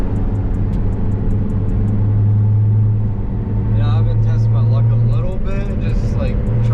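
An Acura TSX engine revs up under throttle while clutch slip is being tested, a steady loud droning rumble that swells and holds, with a person talking over it partway through.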